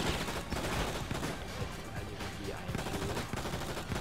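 Gunfire in the video game Enter the Matrix, a rapid burst of repeated loud shots crackling over game background noise, with no talking.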